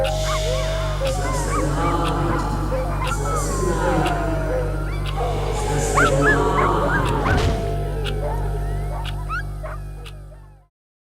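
Dogs barking and yipping in a Minecraft horror film, a busy overlapping run of barks and whimpers over a steady low hum, with goose-like honking tones mixed in for most of the stretch before cutting off.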